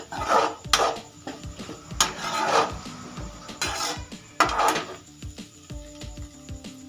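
Carrots and beans being stirred in oil in a pan for a leftover idli dish, a spatula scraping and clattering against the metal in repeated bursts, close and moderately loud with no talking.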